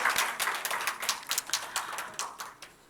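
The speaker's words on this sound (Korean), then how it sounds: "우리 하나님께 영광의 박수 올립시다." Congregation clapping during a Sunday morning church service, a dense run of many overlapping hand claps at moderate level with a few sharper individual claps, fading toward the end.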